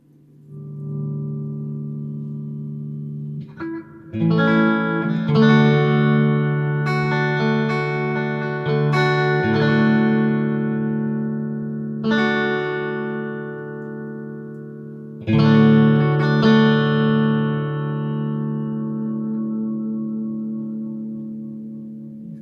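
A guitar played through a Marshall MG100HDFX amplifier with reverb engaged rings out in struck chords and notes, each decaying into a lingering, washed tail, with a few fresh strums over sustained sound.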